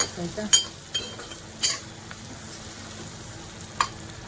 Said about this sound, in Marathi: कांदा आपल्याला परतायला लागतो थोडं थोडं असा